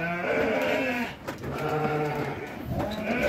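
A Garut sheep, an F1 Dorper crossbreed, bleats loudly and close in two long wavering calls separated by a short pause.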